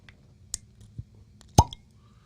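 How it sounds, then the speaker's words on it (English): A cork pops from a bottle of Stag Jr. bourbon, a single sharp close pop preceded by a few faint handling clicks and soft taps. "We're going to get y'all really close to the cork pop here right now."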